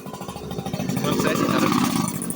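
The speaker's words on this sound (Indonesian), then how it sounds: "sebentar, ada motor lewat ya." A motorcycle passes on a public road, its engine chugging in close and growing louder over about two seconds while a voice speaks underneath.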